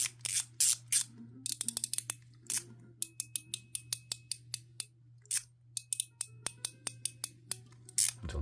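Sharp, crisp mechanical clicks from a 9 Hand EDC Bubble Push mechanical slider with ceramic balls, snapping in quick rhythmic runs of detents, close and clear in a quiet room.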